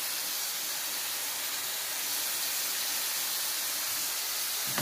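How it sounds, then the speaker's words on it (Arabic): Beef liver sautéed in hot oil sends up a loud, dense, continuous hiss that holds at an even level the whole time, with no talking over it. "الحتة وهي بتتشوح ما تتحط بالزيت كده على طول، وكمان بتديها صدمة"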